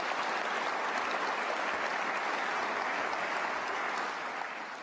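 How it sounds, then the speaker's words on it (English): Steady, dense applause from a large convocation audience fills the hall, holding at an even level throughout with no voices breaking through. "Let's give them another round of applause"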